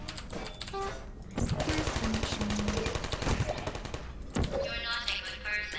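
Automated turret in the video game Portal firing rapid bursts, a dense rattling chatter of shots that runs steadily for several seconds over game sounds, with brief mechanical tones and beeps at the start.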